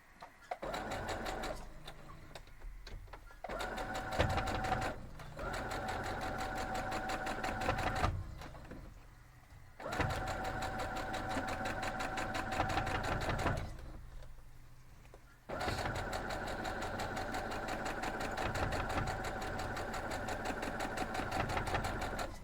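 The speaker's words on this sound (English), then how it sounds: "Now we're just going to sew these both sides down" A sewing machine stitching the sides of a star quilt block, with steady fast rhythmic whirring in several long runs separated by short pauses, close and moderately loud.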